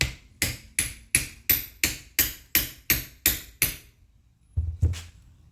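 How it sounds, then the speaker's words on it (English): Hammer striking a bolt on a 1957 Chevrolet Bel Air, about ten sharp metallic blows in a steady rhythm, close and loud, then a pause and a couple of softer knocks. "Hammer time."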